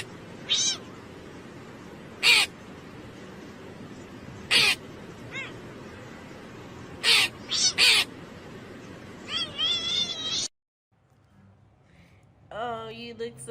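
A cat meows in short, separate bursts spread over several seconds, followed by a longer run of wavering meows. The calls are fairly clear over a quiet background and end in a brief silence before a final meow.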